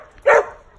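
A single short, close bark from a dog in a shelter kennel set up in a converted old kitchen. The bark is sharp and stands alone against a quiet background.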